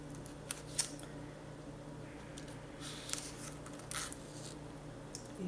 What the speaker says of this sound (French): Et puis, je vais couper un bout.